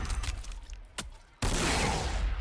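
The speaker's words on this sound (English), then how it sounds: "so have a battle cannon" Battle cannon fire in the strategy game Warhammer 40,000: Sanctus Reach, with a sharp crack followed by a loud, sustained roaring blast that swells to fill the scene after a brief lull.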